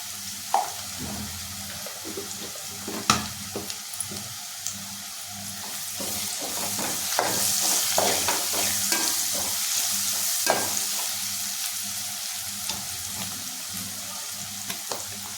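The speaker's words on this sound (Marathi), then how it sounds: "आता आपण यात हळद टाकायची." Soybean bhaji cooks in a frying pan as turmeric goes in, with a continuous sizzle under scraping, clinking stirs of a spoon against the pan, moderately close and without voices.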